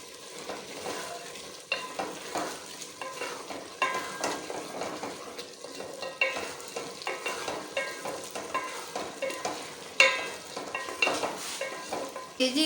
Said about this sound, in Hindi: उसके बाद हम इसको अच्छी तरह से इसकी हम भुनाई करेंगे